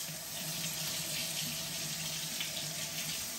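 A kitchen tap runs hot water into a sink in a steady, unbroken rushing stream, heard up close with no voices over it.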